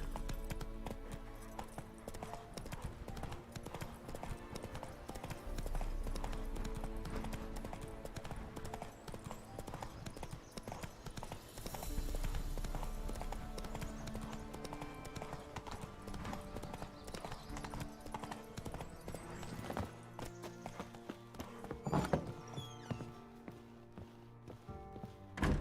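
Horse hooves clip-clop at a steady walking rhythm while riding in The Witcher 3, continuous and close throughout, over game ambience and music, with occasional brief speech.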